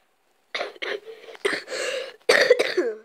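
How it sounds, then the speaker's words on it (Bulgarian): Someone coughs several times in short, hoarse bursts close to the microphone, starting after a brief silence, with no speech. "Съжалявам, че кашлям."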